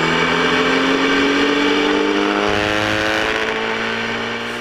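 A 2013 BMW R1200GS adventure motorcycle on Continental TKC 80 tires rides past with a loud, steady engine drone and a pitch that slides gradually as it passes, then fades slightly at the end.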